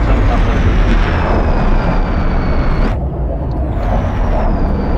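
Loud, roaring F-14 Tomcat fighter jet engine noise in a flight simulation game that holds steady, then dips and swells again as the aircraft passes, with a high whine riding on top.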